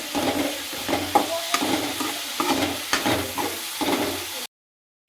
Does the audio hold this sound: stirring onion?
yes